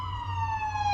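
An ambulance siren sounds as it passes, a single brief steady wail sliding gradually downward in pitch, moderately loud over a low road hum.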